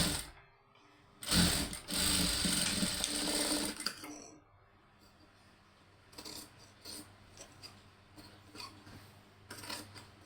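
Sewing machine stitching a side joint in two bursts, a loud rapid mechanical run of a few seconds followed by softer, intermittent short stitches and clicks at close range.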